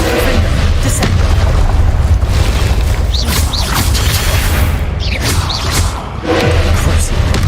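Video game spell combat in a Hogwarts setting fills the mix with dense, loud magical blasts, booms and whooshes layered over continuous music and effects, with a voice calling out spells throughout.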